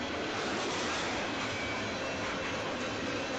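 A long Union Pacific freight train of tank cars and older and newer hoppers rolls past, giving a steady, broad rushing rumble of wheels on rail at moderate distance with no voices.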